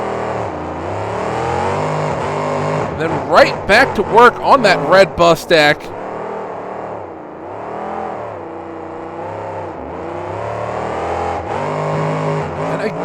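Monster truck at a KORR Monsters 2008 event in Atlanta, Georgia, its engine refired and revved in a quick series of loud throttle bursts, then settling into a lower growl, with an announcer talking over it throughout.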